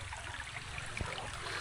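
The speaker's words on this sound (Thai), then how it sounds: "น้ำไหลอยู่เขตนี้มีค่ำได้พี่น้อง" A stream trickles through the forest beside a rural village, its flow soft and continuous in a brief, fairly quiet stretch with no talking.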